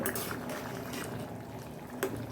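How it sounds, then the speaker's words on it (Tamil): Quiet, steady bubbling of a pot of rice for vegetable biryani at a boil, soft and continuous with faint pops and a light clink. "நல்லாவே கொதிக்குது"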